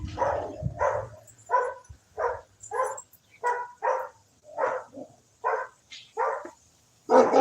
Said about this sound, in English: The dogs are barking about.